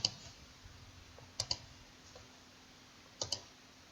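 Three pairs of sharp computer mouse clicks, near and fairly quiet, spread across a low room hum with long silent gaps between them.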